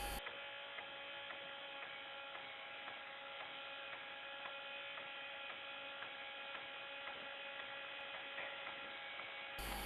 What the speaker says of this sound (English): We will allow the motor to run in neutral.